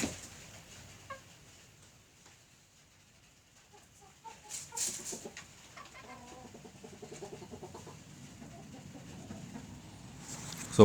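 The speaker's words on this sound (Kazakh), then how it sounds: "Он екі тауық бар менде, 12 тауық." A backyard flock of twelve hens clucks softly and intermittently, with scattered close clucks and a few louder squawks over a quiet background, no talk heard.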